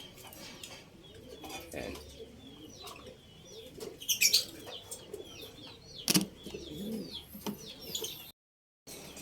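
Racing pigeons coo softly while wings flap in a few sharp bursts nearby, with faint chirps in the background and a brief spoken word.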